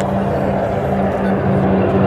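A Curtiss Helldiver warplane, number 32, flying past at an airshow: a loud, steady piston-engine drone with a deep hum, holding constant over a couple of seconds with no audible talk.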